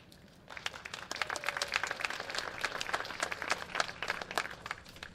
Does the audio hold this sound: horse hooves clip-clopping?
no